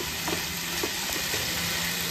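Noodles, onion and rice are tossed in a pan on a high flame, giving a constant loud sizzle with faint bumps of movement, and no voices.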